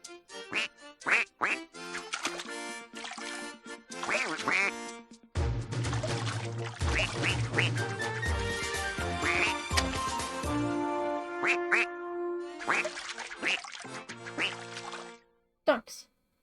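Cartoonish duck quacks from a Viva Piñata romance dance, repeated nasal quacking over bouncy game music with watery pouring effects, and a person talking at points.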